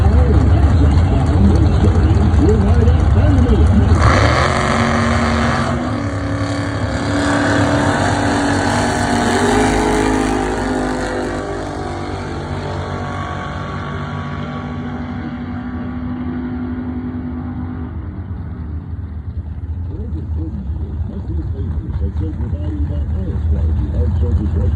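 Drag racing car makes a run, a loud engine roar rising sharply in the first seconds, holding then fading into the distance, with a person talking over the sound.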